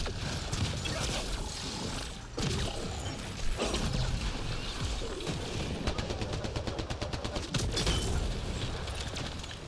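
Sci-fi gunfire in Mass Effect, rapid bursts and rattling volleys over about ten seconds, including a fast regular stutter of shots near the end, mixed with clanking mechanical noise.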